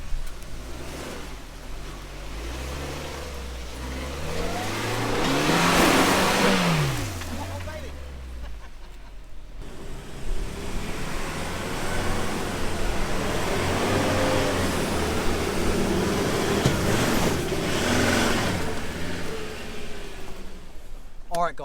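A Suzuki Jimny JB74 drives off-road tracks, its engine droning and rising and falling as it climbs and revs, with gravel and bumps over a steady rumble and some talk inside the cabin.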